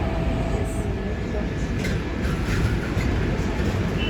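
Madrid metro train pulling away after a long stop, a steady loud rumble of the carriage with faint rail squeals, heard from inside the car with some voices in the background.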